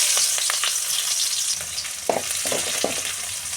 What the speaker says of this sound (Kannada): ಬೆಳ್ಳುಳ್ಳಿ, ಹಸಿಮೆಣ್ಸಿಕಾಯಿ ಕುಟ್ಟಿರೋದು ಸ್ವಲ್ಪ ಎಣ್ಣೆಯಲ್ಲಿ ಫ್ರೈ ಆಗಬೇಕು